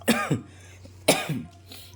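Two sharp coughs a second apart, close and loud, each followed by a quick throat-clearing rasp over a low hum.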